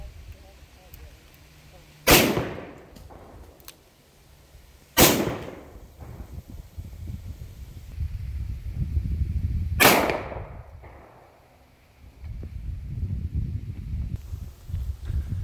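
Three sharp gunshots from the Wolfbane ring out several seconds apart at improvised targets outdoors, each a loud crack with a rolling echo, separated by low rumbling background noise.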